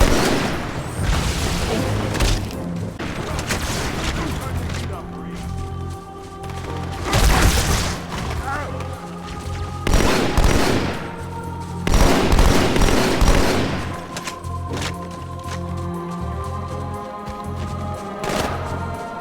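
Heavy artillery and gunfire in Halo 2 roll in repeated loud booms and bursts, with rattling automatic fire between the blasts, several big impacts clustering around the middle and end over a sustained battle din.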